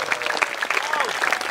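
Audience applause at the Murthal Mahotsav 2024 cultural festival, a dense, steady wash of clapping from a crowd lasting throughout, fairly loud and continuous with no clear pauses.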